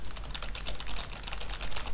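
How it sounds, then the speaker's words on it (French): Rapid keystroke clicks from the Opera GX browser's typing sound effect, a dense irregular run of sharp, crisp taps resembling a mechanical keyboard, close and steady throughout with no talk. "il y a un bruit de touche"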